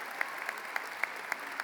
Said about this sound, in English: Let's give your principal a big round of applause,